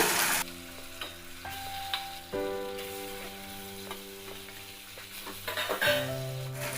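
Chhena cooking in a spoonful of ghee in a hot pan for kite-shaped sandesh, with a gentle sizzle under ringing metallic clinks and scrapes of a spatula against the pan.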